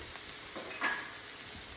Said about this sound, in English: Okay, so now I'm going to add my garlic